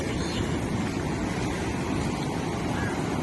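Floodwater of the swollen Indrayani river at Alandi after heavy upstream rain, a steady, loud rushing roar with broadband turbulence that continues without a break and with no voices.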